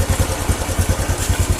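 Honda Revo motorcycle engine with a sputtering fault and a weak charging circuit, running close up with a loud, rhythmic low thumping pulse of roughly six beats per second, alone with no talk.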